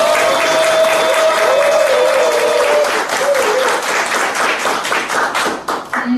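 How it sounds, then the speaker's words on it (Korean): A lecture audience breaks into dense, sustained applause to welcome a history lecturer, with a brief voice heard early on and the clapping thinning into scattered claps toward the end. "큰 박수로 예, 모시겠습니다."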